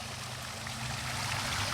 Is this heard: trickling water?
yes